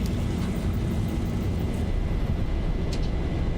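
A Boeing 737-800 jet roars through its takeoff run in the X-Plane 11 flight simulator, a steady, dense, loud engine rumble with broad low-end power that continues unbroken throughout.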